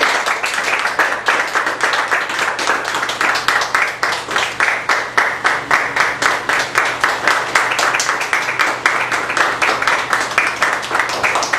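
An audience gives a warm, sustained round of applause to welcome the Toastmaster at a Toastmasters club evening meeting, dense steady clapping filling the room for about twelve seconds with no talk over it.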